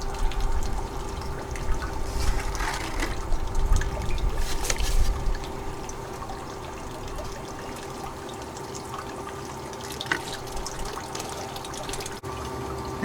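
Water runs steadily through a GOLDROP gold recovery sluice while paydirt is processed. A continuous close trickle and pour of flowing water is heard alongside a constant pump hum, heavier in the first five seconds and then settling.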